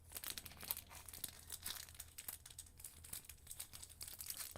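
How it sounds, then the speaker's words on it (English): Close, dry crinkling with small crackles, steady and busy across the whole stretch, alone with no voices. "A little crinkling going on."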